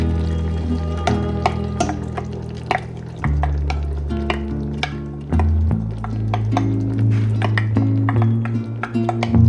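Metal spoon scraping and clinking in a pot as cannellini beans are stirred into a hearty Tuscan soup, with close, irregular knocks and steady ringing tones from the pot.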